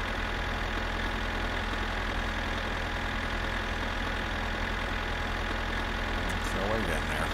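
A tractor engine idles in the video game My Summer Car, a steady loud mechanical drone with a continuous low rumble and a brief rattle near the end.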